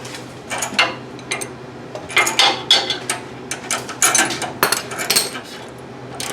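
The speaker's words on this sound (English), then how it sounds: "I gotta tighten these bolts up. You see my little ratchet and my wrench?" Small hand tools, a little ratchet and regular wrenches, clink and tap in irregular bursts while bolts are tightened during steering part replacement on a Chevy C10, close by and moderately loud.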